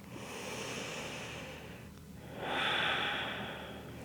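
One slow, close breath during a yoga dolphin pose, a long airy exhale followed by a louder, rushing inhale through the nose, with no talking.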